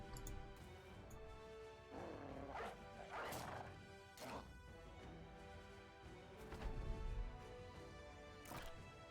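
War dog in the video game Battle Brothers barking and attacking in battle: several sharp barks and yips mixed with thudding hits and crashes, spread over a busy, layered game soundscape.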